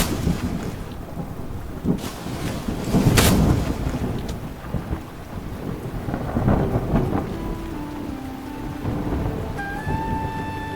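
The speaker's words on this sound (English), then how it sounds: "Rain bathes the forest and saturates the soil" Steady rain falls in a forest in Shei-Pa National Park, Taiwan, with a deep roll of thunder rumbling partway through and a few dripping, watery sounds toward the end.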